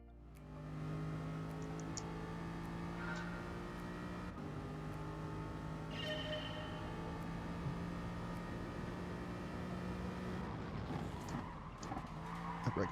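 In GT Sport, a race car's engine drones steadily during a driving school test, shifting pitch as it brakes, with tyre squeal and skidding near the end.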